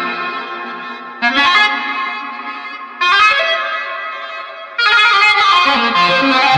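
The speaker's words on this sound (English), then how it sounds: "the echo that you're hearing now is Ableton's Echo" Synthesizer chords played on a LinnStrument through Ableton's Echo effect, a repeating echo trailing each note, swelling in three loud bursts with a warm, slightly distorted tone and no voices.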